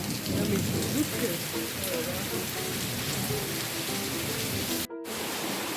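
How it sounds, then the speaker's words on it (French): Heavy tropical rain near Mount Batur in the rainy season, a dense, constant hiss of downpour drumming on surfaces close by, with faint voices beneath and a brief dropout near the end. "C'est un délire la pluie, c'est vraiment un délire."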